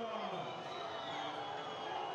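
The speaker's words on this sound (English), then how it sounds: "Crowd trying to put him off." A stadium crowd at the beach soccer final in Moscow, Russia against Switzerland, makes a steady, loud din of whistling and jeering throughout.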